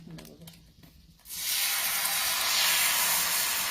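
Ghavan batter poured onto a hot pan sets off a sudden loud, steady sizzle after a few soft kitchen sounds, hissing continuously up close.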